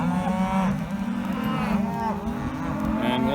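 Cattle moo repeatedly on a ranch where a heifer is being sought among the herd, long drawn-out calls rising and falling over steady low background noise, fairly close and loud.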